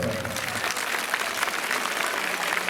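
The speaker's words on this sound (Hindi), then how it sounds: "जोरदार ताली की आवाज़ चाहूँगा" A crowd at a devotional jhanki program for Shree Siddhi Vinayak claps loudly and continuously, a dense, steady burst of applause lasting a few seconds.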